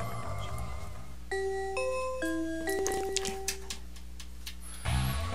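Bell chime from the video game Mother 3, a sequence of clear tones stepping through a short melodic pattern over a steady low hum, with a brief rustle at the end and no speech.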